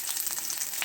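Mustard seeds, onion, chili and curry leaves frying in hot oil, a steady close hiss with small crackling pops throughout.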